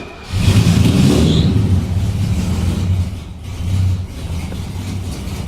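A small engine runs steadily after being flooded and restarted with the throttle held wide open, giving a loud, continuous rumble with slight swells in level and no talking.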